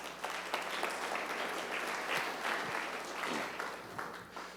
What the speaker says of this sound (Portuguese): Uma salva de palmas para o tio Rico aí.